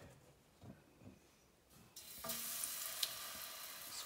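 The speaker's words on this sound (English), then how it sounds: "Now it's time to fry the potato pancakes." Potato pancakes dropped into hot shortening in a frying pan, with quiet stirring and scraping at first, then a sudden loud, steady sizzle that continues close up, with no talking.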